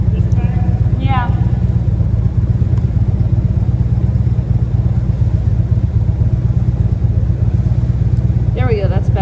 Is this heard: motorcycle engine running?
yes